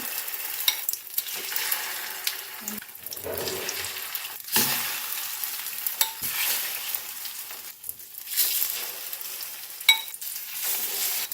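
Cubed tofu fries in a pan with a steady close sizzle, broken by occasional stirring clatters and bursts of louder spattering as the pieces are moved and turned.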